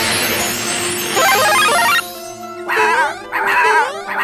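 Cartoon dog barking in a Super Mario Bros. 3 cartoon episode, several yips and woofs over busy music and sound effects, fairly loud and close.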